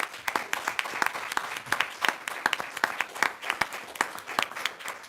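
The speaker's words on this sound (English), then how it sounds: "Let's give her a round of applause." A meeting audience at a county plan commission session applauds an honoree, with a modest group of close, crisp handclaps in a steady patter throughout.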